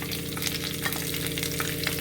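Garlic, ginger and green chillies sautéing in oil in a pan give off a steady, dense sizzle and crackle, close and continuous with no voices.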